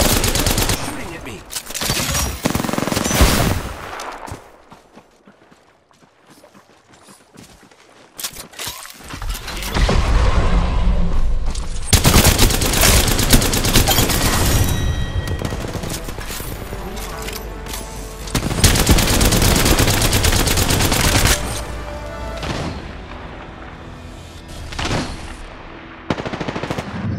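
Rapid bursts of automatic gunfire in the battle-royale video game Apex Legends, loud and close, with dense overlapping volleys, a brief lull near the start, then long sustained exchanges of shots and impacts.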